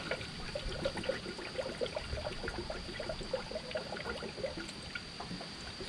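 Coolant, a 50/50 pre-charged fleet mix, being poured into the cooling system of a 1990 Ford F350 IDI diesel truck, a steady close gurgling trickle with irregular splashy bubbling throughout.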